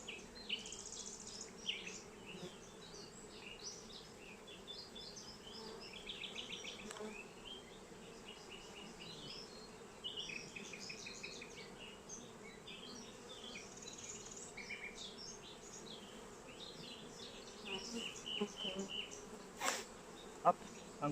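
Honeybees buzzing in an orphaned, queenless beehive: a dense, continuous close drone of many insects with individual wingbeats flickering through, steady and low-level throughout.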